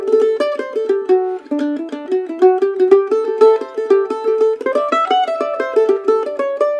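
Mandolin played with a 1.3 mm extra stiff Golden Gate triangle pick, a fast run of crisp picked notes in a jig-like rhythm, close, loud and unaccompanied.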